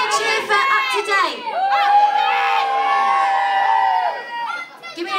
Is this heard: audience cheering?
yes